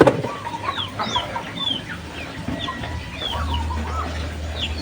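Rhode Island chickens clucking in a backyard flock, repeated short close clucks and chirpy calls from several birds over a low background hum.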